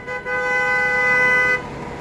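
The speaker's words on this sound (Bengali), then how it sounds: "হর্ন দিচ্ছে সবাই।" A single car horn blares in one long, sustained honk, loud and close, in a traffic jam caused by a wrongly parked car, then cuts off, leaving a faint traffic hum.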